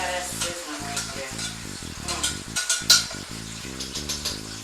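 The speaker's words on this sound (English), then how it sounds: "Look how that's sizzling right there." Potatoes for home fries sizzle steadily in a frying pan, a close hiss with clinks and scrapes of stirring, under a loud stretch of background music.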